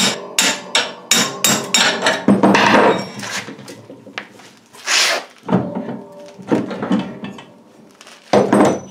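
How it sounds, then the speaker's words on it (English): A hammer strikes a drift punch to drive a pin out of a plow, with a run of loud, sharp metallic clanks in uneven bursts, some quick and close together, others spaced out, ringing near and clear. "now I'm going to just take my punch, drift punch, and drive that pin out the top"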